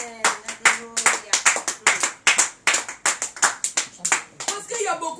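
A church congregation claps in a steady rhythmic beat, roughly two claps per second and fairly close, lasting about five seconds with a voice briefly heard over it.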